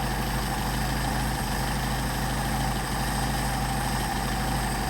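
Mercedes 190SL engine idling on Solex 44PHH carburetors during mixture adjustment, a loud, steady close-up rumble with a slight uneven stumble and no voices.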